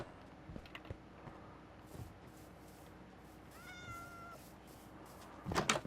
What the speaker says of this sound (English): Meow, meow, meow, meow, meow, meow, meow, meow, meow, meow